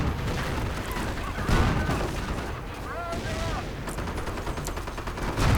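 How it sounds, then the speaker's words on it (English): Nebelwerfer rocket barrages and gunshots in a World War II strategy game, a dense run of booms and cracks with repeated loud impacts, backed by a rising whistle and some voice chatter in the mix. "More shots, more Nebelwerfers."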